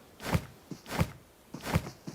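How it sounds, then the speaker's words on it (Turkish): Footsteps in an online shooter game thud at an even pace, three or four heavy steps close by, over a faint background with no talk. "Ayak sesi abi geldi."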